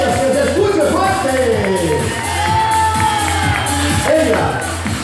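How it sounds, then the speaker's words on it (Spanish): A lively audience cheers and whoops for models at a show presentation, loud crowd shouting and excited voices rising and falling over a thumping music beat. "Futuras modelos de esta noche, un fuerte aplauso para todas ellas, que se escuche fuerte."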